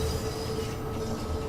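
A London Underground Bakerloo line train in Train Sim World 2 pulls slowly into a platform, with a continuous close rumble, rolling wheel noise and a faint high whine from the running gear.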